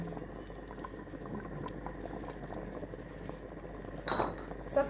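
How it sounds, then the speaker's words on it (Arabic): Meat and onion frying gently in oil in a pot, a faint steady bubbling and crackle with a light clink of a utensil near the end, quiet and without talking. "تقلى اللحم والبصله"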